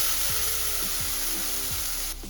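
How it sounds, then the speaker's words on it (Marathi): Leftover ground spice paste, thinned with a little water, fries in oil for a lima bean curry: steady sizzle with a hissing crackle throughout, close and moderately loud, with faint low thumps of stirring. "मी त्याच्यात थोडंसं पाणी घालून मी हे आता भाजून घेणार"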